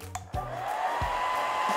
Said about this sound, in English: now we're gonna try it with some more wind with the hairdryer